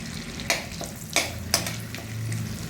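Bay leaf and cumin seeds fry in butter in a kadai for kadai paneer, giving a soft steady sizzle with a few sharp stirring scrapes standing out near the mic.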